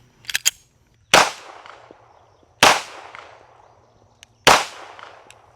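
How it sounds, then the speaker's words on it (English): A SIG P320 X FIVE Legion handgun fired in slow, spaced shots: a few quick faint pops at the start, then three loud sharp reports about 1.5 seconds apart, each ringing out briefly. "let's just shoot it a little bit"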